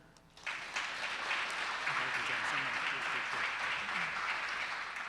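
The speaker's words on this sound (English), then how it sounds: "let's keep that round of applause going for Dan" Audience applause for a speaker at a career week event, dense steady clapping that rises after a brief spoken moment at the start and holds evenly, moderately loud.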